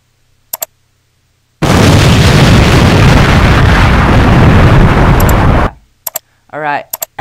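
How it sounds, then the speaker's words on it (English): A cinematic explosion sound effect for an intro template bursts loud and close, then sustains as a dense roaring rumble for about four seconds before cutting off, with brief clicks and a short voice-like sound around it. "and then explosion sound effect"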